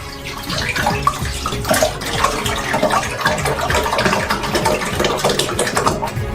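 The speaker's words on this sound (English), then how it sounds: "pour some of them into another saucepan" Egg whites being poured from a container into a saucepan in a kitchen making a giant donut, a continuous liquid splashing and trickling sound with a steady close pour and no talk.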